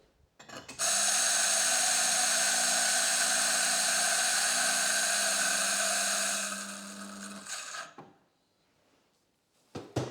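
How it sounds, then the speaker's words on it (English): A Mahlkonig E65S coffee grinder runs during cleaning with a loud, steady, high whine close by for about six seconds, then winds down, followed by a few clicks. "the grinder is now operational. And we're just going to grind those grinds through."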